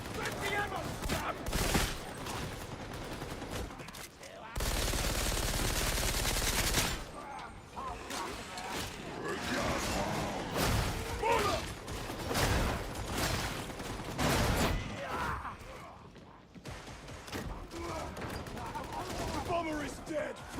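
Heavy gunner firing in the Warhammer 40,000: Darktide video game, rapid sustained bursts of automatic gunfire with a long continuous stretch, mixed with battle clatter and voices shouting over the shooting.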